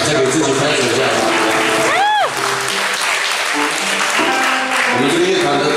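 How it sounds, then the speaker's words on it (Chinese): Concert audience at a band performance applauds steadily for several seconds, a dense crowd clapping with a voice and a brief whoop rising over it. "再给自己拍手一下吧"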